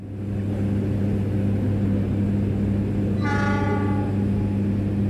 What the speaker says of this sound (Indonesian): kita tunggu Cikuraynya masuk stasiun Bandung